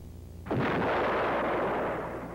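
An AH-56 Cheyenne helicopter fires a TOW missile, heard as a sudden loud blast that becomes a sustained broadband roar and rushing hiss, holding steady for about two seconds with no voices.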